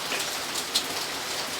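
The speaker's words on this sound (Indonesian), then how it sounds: "Hujan kieu." Steady rain falling outdoors, a soft, even hiss of drops at moderate distance, with no voices over it.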